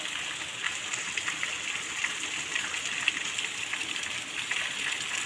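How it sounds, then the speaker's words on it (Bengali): Heavy rain falls steadily and densely, an even hiss and patter that stays constant throughout with no voices. "এত বৃষ্টি পড়ছে।"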